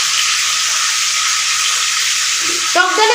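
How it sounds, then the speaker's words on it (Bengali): Steady hiss of dried red chilies frying in hot oil, with a brief clatter of stirring near the end. "শুকনো লঙ্কা একসাথেই ভাজা হচ্ছে"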